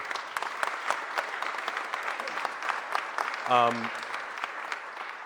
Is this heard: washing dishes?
no